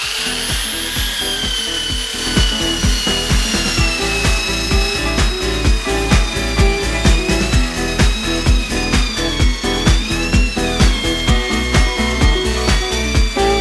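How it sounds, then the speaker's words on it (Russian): A Tekhmann belt sander runs at maximum speed on a wooden board with a loud, steady motor whine. A rhythmic rasping pulse repeats as the belt grinds across the wood, close up throughout. "Сейчас установил максимальный оборот и хочу пошлифовать немного доску и проверить, собирается ли вообще пыль в этот мешок"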